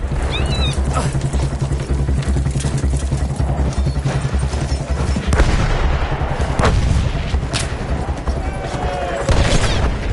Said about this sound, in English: Artillery already?